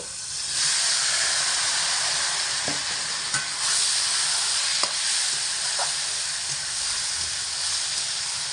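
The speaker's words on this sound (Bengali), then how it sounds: "এবার এর মধ্যে আমি ঢেলে দিচ্ছি ডাঁটা আলু সিদ্ধ" Boiled drumsticks and potatoes tipped into a hot oiled pan, a loud, steady, hissing sizzle with a few faint clinks from a spoon, continuing evenly throughout.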